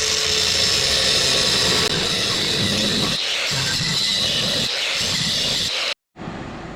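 A cut-off wheel grinds through a metal piece for a surf cart lift: a loud, steady, close whine and rasp that drops to silence for a split second near the end before resuming.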